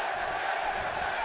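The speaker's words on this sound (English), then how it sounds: "And the crowd starts their 10 chants." Arena crowd in the wrestling video game WWE 2K17 roaring and chanting ten in a steady, dense wash of many voices, loud and continuous throughout.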